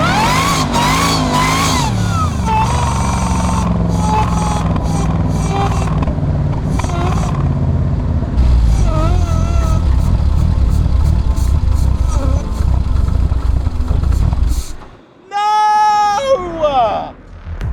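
Modified Jaguar muscle car revving and accelerating hard in a launch attempt, a loud engine roar that cuts off abruptly near the end, followed by a short high-pitched whine or squeal.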